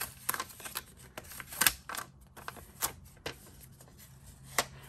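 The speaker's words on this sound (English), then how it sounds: "And now we're gonna pull up our masking paper." Masking paper is peeled off stamped cardstock in a series of brief, close crackling and papery ticks, scattered and irregular against a quiet background.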